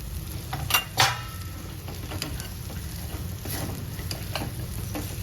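Green chillies and lentils frying in oil over low gas, a soft steady sizzle punctuated by a couple of sharp scraping clinks of a spoon stirring against the pan.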